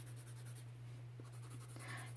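Watercolor pencil coloring on paper: soft, faint scratchy strokes in quick repeated passes, close and quiet over a steady low electrical hum.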